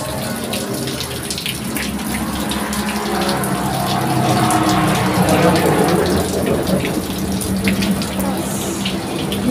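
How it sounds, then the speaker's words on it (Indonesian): Water runs and drains steadily from pressed soybean tofu curd at a traditional Tahu Sumedang workshop, a continuous splashing flow that swells slightly midway, with a faint voice underneath. "Press supaya airnya keluar semua, pemirsa"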